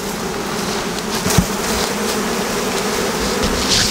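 Dense, steady buzzing of many honeybees close by at a hive crowded with honey, a continuous droning hum with occasional louder passes.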